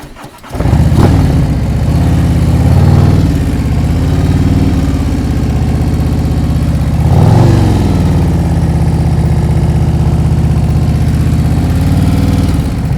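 Motorcycle engine idling and pulling at low speed during slow-speed riding practice in California, a loud steady rumble with two brief throttle swells, no talk.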